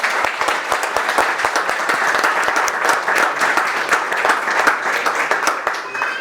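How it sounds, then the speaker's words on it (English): Sustained, steady round of applause from an audience at the opening of a hotel's Maharaja Duleep Singh Durbar Room in Thetford, dense clapping throughout with faint voices underneath. "can we have a round of applause to the hotel?"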